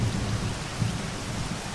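Rain and rolling thunder in the video game Zero Sievert, a steady dense hiss of rainfall with low rumbling thunder underneath, continuous and fairly loud with no voices.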